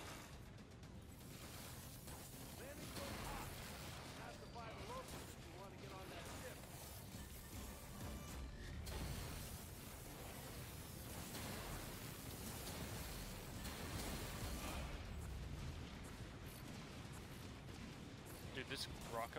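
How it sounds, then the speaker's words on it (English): Rocket launcher blasts in the video game The Cycle, heavy booming explosions layered over dense, continuous gunfire and rumble, loud and sustained with a voice talking over the chaos. "This rocket launcher is insane."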